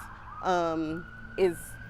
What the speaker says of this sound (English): And police sirens whirl by shortly after.